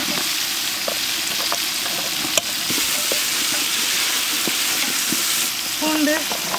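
Small onions fry in a pan with a loud, steady close-up sizzle, broken by a few small clicks and a brief utensil knock, with no voices.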